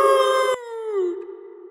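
A man imitates a Bigfoot or Skunk Ape call with one loud, sustained howl that starts high and slides downward, tapering off over under two seconds.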